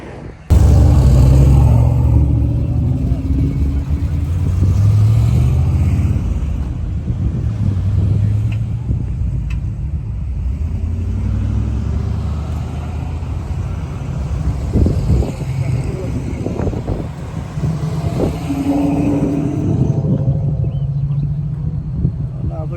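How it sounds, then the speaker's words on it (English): Cars and trucks on a hot rod power tour roll past close by, a steady loud engine rumble with revving swells and passing surges, with people talking over it throughout. "just got to see these cars and trucks ride by"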